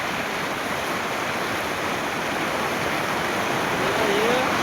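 Mahi river flowing beneath a bridge, a steady broad rushing wash of water that stays constant and fairly loud throughout, with no break.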